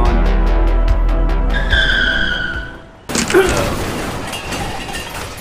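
A car skids with squealing tires, then a sharp crash and clatter cuts in before the engine carries on, loud and close under a steady low rumble.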